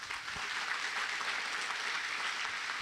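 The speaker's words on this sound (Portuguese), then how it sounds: "Aplauda bem forte ao Senhor." Congregation applause at a Brazilian church service fills the space with steady, dense clapping for the whole stretch, moderately loud and even, with no talk standing out.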